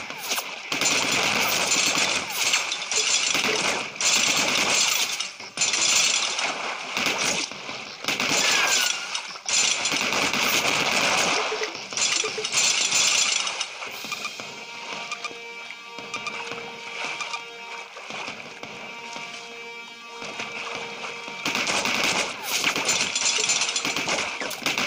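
Rapid bursts of machine-gun fire in the mobile shooter game Ramboat, dense crackling volleys with short gaps, loud and continuous, mixed with mechanical game effects and background music, no talk.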